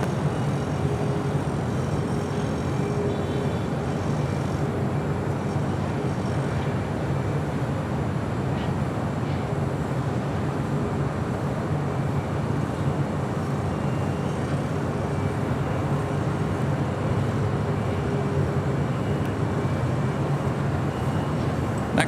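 A Challenger business jet lands on runway 24 left at LAX. A steady, broad roar holds for over twenty seconds at a constant loud level, with no voices.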